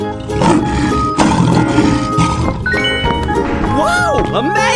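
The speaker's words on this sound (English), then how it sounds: "Lion." A lion in a 3D animal slide video game roars loudly over busy game music and sound effects, with a rising and falling tonal effect near the end.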